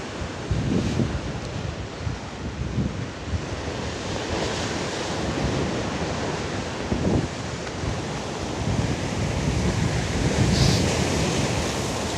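Strong sea waves crash and wash continuously against a coastal sea wall on a windy morning in Taipei while gusty wind buffets the microphone, a steady loud roar with no voices.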